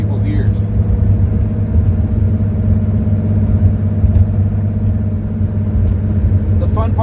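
A very loud Porsche 911 engine breathing through its muffler rumbles steadily and close for the whole stretch, with a deep, even idle-like drone and no speech over it.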